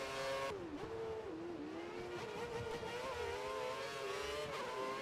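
Formula One race car engines in the F1 2013 video game, AI cars short shifting as they drive, heard as a steady high-pitched whine that repeatedly dips and climbs in pitch with quick gear changes, moderately loud and continuous.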